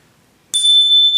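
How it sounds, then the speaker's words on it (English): A debate timekeeper's bell gives one sharp, bright ding after silence and rings on with a steady, clear sustain, close and loud. "They also have a bell."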